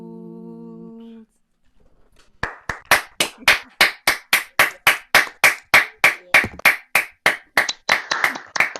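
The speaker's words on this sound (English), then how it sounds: "It's nice to hit some claps" Audience at a shanty festival clapping after a song, a steady run of sharp, loud hand claps that builds after a brief sung tone and short pause.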